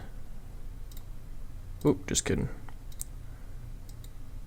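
A SteelSeries Rival computer mouse gives a few sharp clicks, a quick cluster in the middle with softer ticks scattered before and after, while someone talks briefly.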